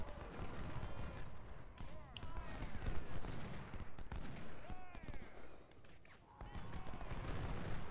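Massed troops firing musket volleys in the video game Ultimate General: Civil War, Perryville battle: dense crackling rifle fire and booming shots layered over battlefield clamor, fairly faint and continuous, with shouted voices mixed in.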